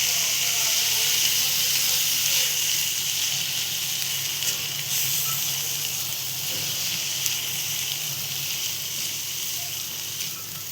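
A broad bean masala of roasted val beans with onion sizzles and steams in a pan. A steady, bright hiss runs unbroken throughout, with faint voices under it.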